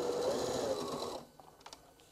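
A sewing machine stitches the end of a fabric pet bed with a steady, close, whirring hum that stops abruptly partway through, leaving a few soft handling clicks.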